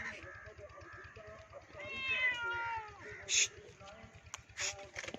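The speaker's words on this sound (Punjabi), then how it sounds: "ਨਿਕਲ ਗਈ ਬਿੱਲੀ" A village cat meows in rural Pakistan, with a few short, clear meows rising over nearby voices and a low rumbling background.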